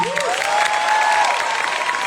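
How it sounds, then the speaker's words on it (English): Crowd applause and cheering at a festival premiere celebration, a dense wash of clapping with a brief voice at the start and a faint sustained tone underneath. "round of applause for tonight"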